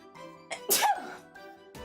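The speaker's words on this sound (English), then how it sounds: "hold on, I have to sneeze." A single loud sneeze with a sharp burst of breath, close to the microphone, with quieter breathy sounds before and after.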